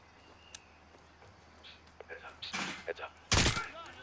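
Scattered gunshots in a Call of Duty video game, a few sharp cracks building to a loud close burst near the end, with voices talking underneath.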